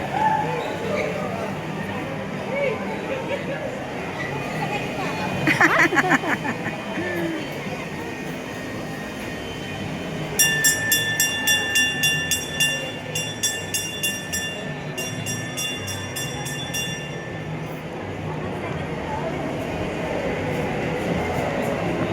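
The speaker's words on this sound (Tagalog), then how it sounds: "May tren." A train rumbles past inside a shopping mall with rhythmic clickety-clack of wheels and a high metallic squeal, loud and close, with voices talking over it.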